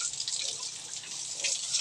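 Water from a hose splashes and hisses steadily while mother sows are bathed on a pig farm, a close, continuous bright spray with slight fluctuations.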